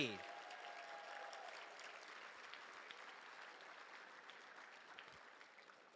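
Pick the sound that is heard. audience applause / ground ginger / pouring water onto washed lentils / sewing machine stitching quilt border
audience applause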